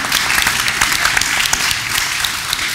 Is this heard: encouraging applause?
yes